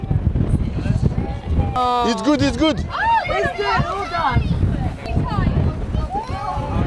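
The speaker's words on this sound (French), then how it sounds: "Comme vous voyez, il y a beaucoup de vent." Strong wind at a seaside lighthouse on Majorca buffets the microphone with a steady low rumble throughout, while several people talk and exclaim over it close by.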